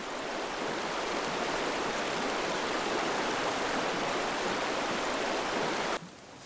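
An icy winter stream rushes in a steady, dense hiss of flowing water that cuts off abruptly near the end, leaving a quieter background.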